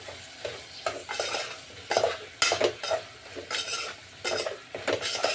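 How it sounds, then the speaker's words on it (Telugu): Coriander powder and mint being stirred into a vegetable biryani masala, a spoon scraping the pot in repeated rhythmic strokes with a light sizzle underneath, close and moderately loud, no talking. "ధనియాల పొడి నెక్స్ట్ పుదీనా ఇవన్నీ వేస్తే మంచిగా అంటే మంచిగా కలుపుకుందాం"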